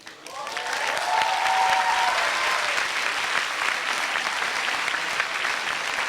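Dense audience applause for a food-science lecturer, Dr. Salvador Badaoui, at a talk on thermal processing of canned foods; steady loud clapping from a large crowd fills the whole stretch without letting up.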